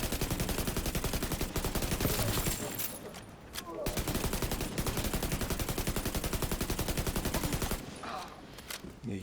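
Assault rifle fire in The Division 2 video game rattles in long rapid automatic strings with short pauses between them, loud and close, with brief talking in the gaps.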